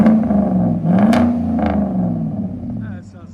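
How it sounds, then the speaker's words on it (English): A 2018 Chevy Silverado Z71 with a 5.3L V8 and true dual Flowmaster Flow FX exhaust gives a loud, close, deep idle rumble with a couple of quick blips of revving, then settles and fades slightly at the end. "Silverado True Duals with Flow FX"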